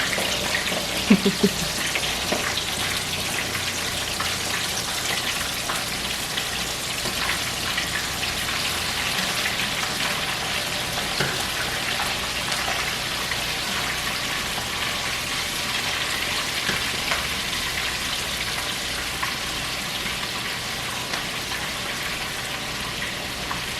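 Chicken pieces seasoned with Slap Ya Mama seasoning fry in hot oil, a steady loud crackling sizzle that runs unbroken throughout, with a brief clatter near the start.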